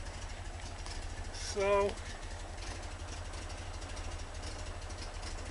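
A 1973 VW Super Beetle with a 1745cc engine, Dellorto FRD 34 carburetor and Mofoco 041 heads idles steadily at around 800 rpm, a low continuous rumble throughout, with a brief spoken word partway in.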